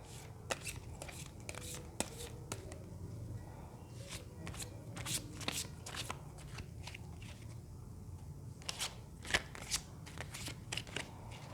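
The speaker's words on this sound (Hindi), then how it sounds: "जब तक मैं कार्ड शफल कर रही हूँ आप लोग भी मेडिटेट कीजिए।" Tarot cards being shuffled by hand, a steady series of crisp riffling snaps and soft card slaps repeating closely for several seconds, with a faint low hum underneath.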